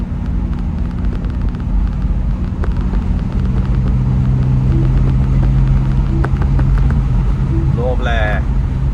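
A 2025 BMW M2 engine and exhaust roar in a loud, steady, deep rumble that holds throughout, close and powerful.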